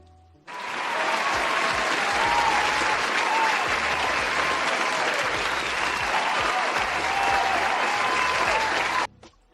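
A short burst of applause played as a sound effect during a live stream celebration, dense and steady for about eight seconds at close, loud level before cutting off abruptly.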